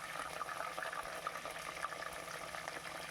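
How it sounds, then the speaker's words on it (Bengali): Pointed gourds (potol) frying in oil in a pan, giving a steady, dense crackling sizzle that holds evenly throughout with no voices. "ভালো করে তেলটা দিয়ে ভালো করে পটলগুলোকে ভেজে নেব"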